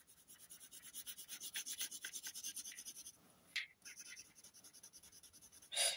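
A pencil scratches across paper in quick rhythmic back-and-forth strokes, close and faint, pausing briefly before the strokes resume and then end in a sharper rasp.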